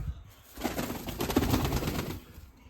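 Soft, low cooing of a dove that rises in the middle and trails off, heard alone over a light rustle of background noise.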